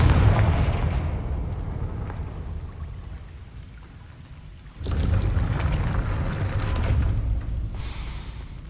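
A Confringo blasting spell in Hogwarts Legacy erupts as a loud, broad explosive burst midway, following a softer rumbling stretch, with a crackling whoosh near the end.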